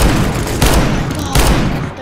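Gunfire in Counter-Strike, with two heavy bursts of shots standing out over a continuous loud wash of game noise and rapid firing.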